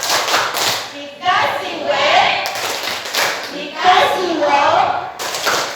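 An Indonesian school class performs the rhythmic 'tepuk semangat' clapping chant, bursts of sharp, patterned hand claps from many children alternating with their shouted call-and-response words, loud and close in a classroom.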